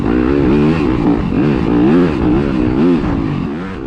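Dirt bike engine racing at a GNCC-style off-road event, loud and close with steady revving that rises and falls in pitch throughout, no voices.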